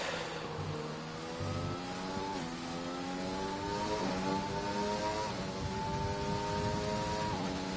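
A Formula 1 car in a racing video game revs hard in fourth gear at the Australian track, its loud, sustained engine whine climbing and dipping in steady harmonic sweeps with no gaps.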